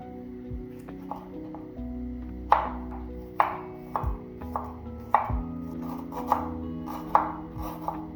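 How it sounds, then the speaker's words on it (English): A knife chops steadily on a cutting board, sharp knocks repeating about once a second, close and clear with a low hum behind. "I'm going to start off by roughly chopping my ingredients."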